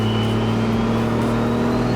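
A tuned L5P Duramax single cab pickup truck revs hard in a loud, sustained roar with a deep steady drone and rising whine, heard up close without any talking.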